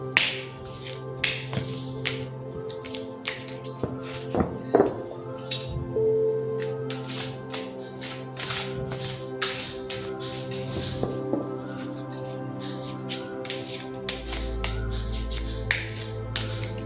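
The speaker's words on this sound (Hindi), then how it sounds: "तो पहले मैं ज़रा कार्ड्स को शफल कर लेती हूँ।" Tarot cards being shuffled by hand make a string of crisp snapping riffles and soft taps, close and fairly quiet, over a faint steady hum, with no talking.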